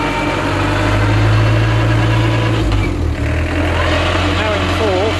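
Truck engine running in gear with an overdrive transmission, a loud steady low drone with a constant hum and a slight dip partway through, close and continuous with no talk.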